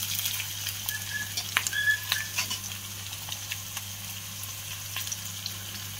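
Green chilies frying in hot oil in a pan, a steady soft crackle with a few louder pops and stirring clinks near the start, alone and fairly close over a constant low hum.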